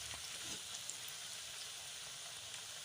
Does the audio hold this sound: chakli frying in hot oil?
yes